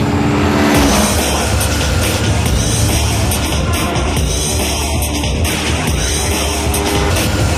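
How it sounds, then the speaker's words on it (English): A Kawasaki Ninja 250R motorcycle engine roars loud and steady throughout, a continuous revving drone mixed with road and background noise. "The all-new Ninja 250R from Kawasaki."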